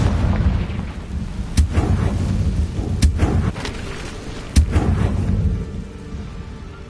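The Confringo fire spell in Hogwarts Legacy sets off a string of heavy, booming explosions, three sharp blasts spaced about a second and a half apart over a low rumbling game soundscape.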